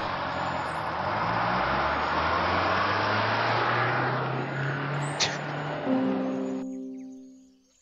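A bus engine in the game Hype Pumping Simulator 2 hums steadily, with a low tone that rises as it accelerates. The sound holds for several seconds, then fades out at the end, and no one speaks.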